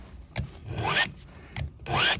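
A file drawn across a chainsaw chain tooth with pressure toward the saw, two close rasping strokes that rise and fall, each preceded by a short scrape.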